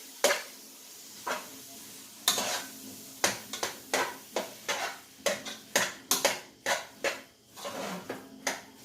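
Ground turkey with rice and tomato sauce browning in a skillet: a soft sizzle under a run of sharp spoon scrapes and clinks against the pan, irregular at first and then quick and regular, close up.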